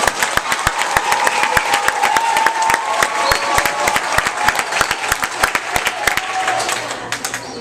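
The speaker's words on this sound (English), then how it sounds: "big wild applause to Jimmy Freeman right here." A school assembly bursts into loud, sustained applause and cheering for a motivational speaker, dense rapid clapping with crowd voices mixed in, steady throughout.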